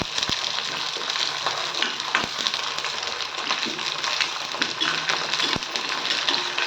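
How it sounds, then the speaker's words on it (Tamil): Garlic fries in hot oil for a Tamil poondu kulambu, giving a dense continuous sizzle and crackle with a few sharp taps from a spoon against the pan. "இதையும் சேர்த்து நல்லா எண்ணெயில் நல்லா கொஞ்சம் ஒரு ரெண்டு நிமிஷம் நல்லா வதக்கி விடலாம்"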